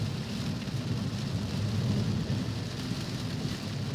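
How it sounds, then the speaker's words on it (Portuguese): Heavy rain pours steadily with a deep rolling rumble of thunder underneath during a cold storm, a dense continuous downpour that swells slightly in the middle with no voices. "É muita chuva."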